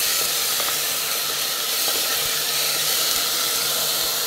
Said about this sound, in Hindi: इसमें हम डालेंगे राइस, इसको भी हम भून लेते हैं